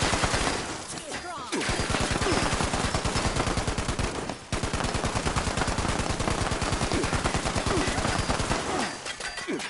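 Turret gunfire in Fallout 76 rattles in loud, rapid bursts that run for seconds at a time, with a brief gap near the middle. The shots dominate over faint background noise.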